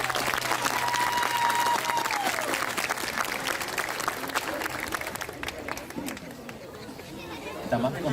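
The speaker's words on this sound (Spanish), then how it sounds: "Muchos aplausos." A festival crowd's applause at an outdoor Paraguayan cultural event, steady dense clapping mixed with cheering and chatter that slowly fades over several seconds.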